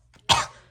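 A single sharp cough close to the mic, one abrupt burst that trails off quickly, with nothing else around it.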